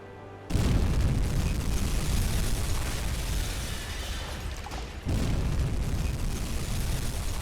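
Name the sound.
torpedo hits exploding on a ship in the video game Uboat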